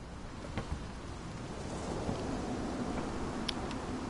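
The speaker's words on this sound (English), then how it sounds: "Looks like a storm." Rain falling steadily through a thunderstorm in the video game What Remains of Edith Finch, a soft continuous hiss with a few faint distant rumbles and crackles, heard alone at low level.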